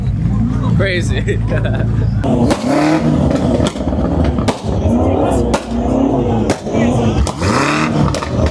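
BMW cars at the Bimmer Invasion car show in West Palm, including a brand new 2018 S1000 with an Akrapovic exhaust, rev their engines in loud repeated bursts close by, with people talking over them.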